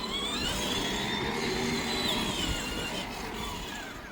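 A child's ride-on Mini Cooper toy car drives along with a steady electric whir and rattle, holding at a constant loudness throughout and fading a little at the end, with no voices.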